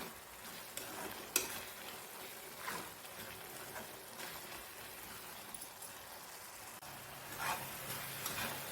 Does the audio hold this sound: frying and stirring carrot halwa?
yes